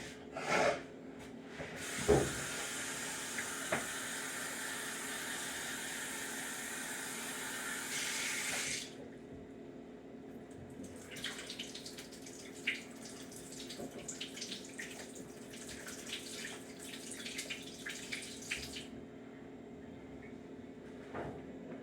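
Water runs from a kitchen tap for several seconds while something chunky is rinsed, a steady close hiss that stops abruptly, followed by quieter clatter and handling sounds near the sink.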